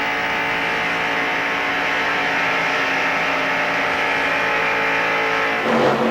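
NASCAR stock cars racing three abreast down the backstretch at the 1993 Pepsi 400, a steady loud engine roar held for several seconds with a brief swell near the end.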